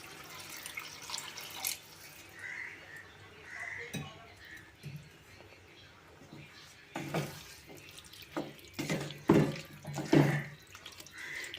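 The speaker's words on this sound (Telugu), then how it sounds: "ఇప్పుడు సరిపోయినంత వాటర్ పోసుకుందాం" Water is poured into a pot of tomato and carrot curry in a village kitchen: faint splashing and trickling in short bursts, with louder pours near the end among clinks of the pot.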